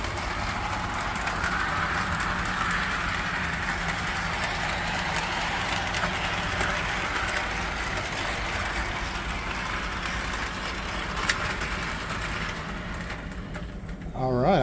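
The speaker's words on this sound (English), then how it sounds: "I got the train to go the other way." A train runs along its tracks with a steady, continuous rumble and faint rattling that holds at an even level throughout, without any talking.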